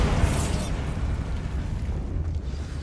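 A Bombarda spell explosion in the Hogwarts Legacy video game: a loud broadband burst at the start, then a sustained low rumble and crackle that fades out slowly.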